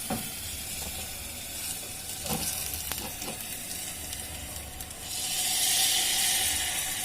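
Cumin seeds tempered in hot ghee are poured over U.P.-style dal tikki, giving a steady close sizzle with scattered crackles and pops that swells louder and brighter near the end, with no voices.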